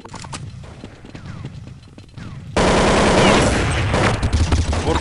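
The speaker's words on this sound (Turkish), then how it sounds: "Vurdum onu Ahmet." Rapid gunfire in Counter-Strike 1.6, dense bursts that grow much louder and continuous midway through, close and harsh, with shouted voices faintly underneath.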